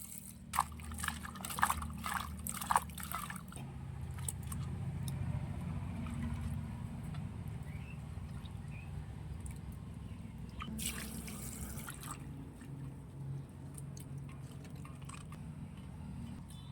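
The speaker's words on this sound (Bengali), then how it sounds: "সবজিগুলো ভালো করে ধুয়ে নেব।" Vegetables rinsed under running water in a home kitchen: a steady low trickle and splash runs throughout, with sharper drips and clatter early on and a brief burst of splashing near the end.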